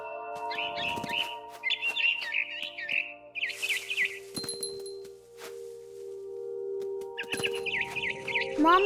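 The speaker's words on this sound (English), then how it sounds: "Then I heard chirping outside my window. It was a barn swallow going back to her nest." A barn swallow chirps in What Remains of Edith Finch in rapid twittering bursts, a run in the first few seconds and another near the end, close and bright over soft sustained music with a few clinks between.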